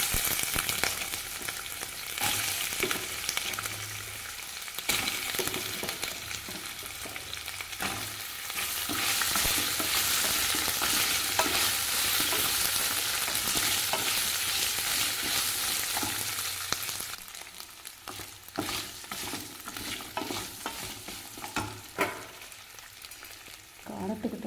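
Ginger and urad dal sizzle steadily in hot oil in a pan, loud and close, with stirring scrapes throughout and the frying swelling in the middle before easing slightly.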